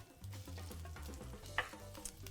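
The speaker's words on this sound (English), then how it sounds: "this is so I can toast and bloom my spices" Cumin and other spices toasting in vegetable oil in a pan, a quiet close sizzle with soft stirring clicks over a low hum, no talk.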